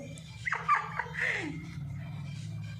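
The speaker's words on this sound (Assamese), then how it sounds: "আমাৰ লাইগাৰ বহুত ভাল ডগী হয়" A dog gives a couple of short, close whining yips and whimpers in quick succession before trailing off into a quiet room hum.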